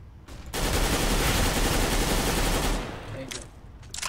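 A full magazine emptied in the game CS:GO makes a sustained burst of automatic gunfire about two seconds long, dense and loud, then fades into faint game noise and a few scattered clicks.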